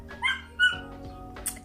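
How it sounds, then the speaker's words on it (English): A pet dog indoors gives a few short yips and barks, two quick bursts then a fainter one, close by in a quiet room with no talking. "So yeah, Mufasa, why are you barking?"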